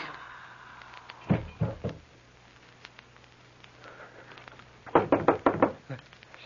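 Knocks on a door in a 1940s radio drama: a first set of three raps, a pause, then a louder burst of about five rapid knocks, heard on a narrow, old-sounding recording.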